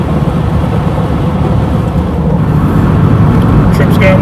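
A car on the road near Clacton rumbles loudly and steadily from inside while driving, a low droning roar from a suspected drive shaft fault, with no talking.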